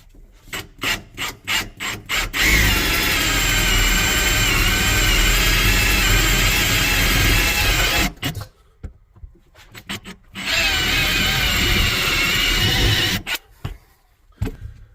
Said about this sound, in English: let's continue to drill out spot welds.